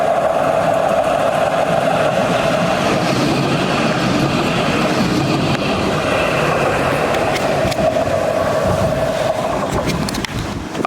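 Nottingham Express Transit tram rolling past on nearby street track, a loud continuous rumble with rail squeal and rattling wheel noise sustained throughout.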